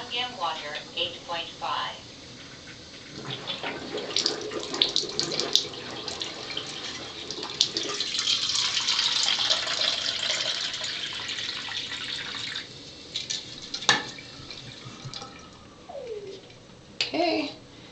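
Water runs from an Enagic LeveLuk SD501 water ionizer dispensing Kangen water at pH 8.5, a steady hissing flow lasting most of the stretch while a person talks over it.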